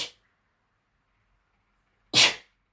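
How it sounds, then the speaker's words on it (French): One sharp, close sneeze bursts out after a silent pause, preceded by a brief faint sound at the very start. "Excusez-moi, je vais éternuer."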